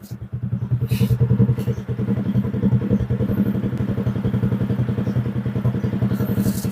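A motorcycle with a white-smoke problem thumps along close and loud, its engine beating in a fast, even rhythm for the whole stretch.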